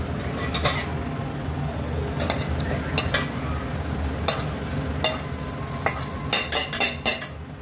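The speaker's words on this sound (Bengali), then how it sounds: "টক দই এরপর এই মশলাটা আমরা মিশিয়ে দিচ্ছি" A spice mixture stirred into sour yogurt in a pan, with a spoon scraping and clinking against the metal in irregular strokes over a low sizzle, close and clear without talk.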